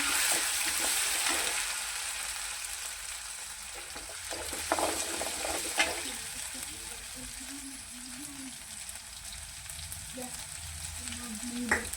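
Onions with turmeric frying in a pan for a stuffed capsicum and potato dish, a steady soft sizzle with occasional stirring scrapes, speech faintly present at moments.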